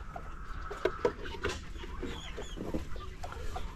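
Backyard chickens settling into a new coop give soft clucks and scattered short calls, with light scratching and pattering nearby and a faint hum underneath.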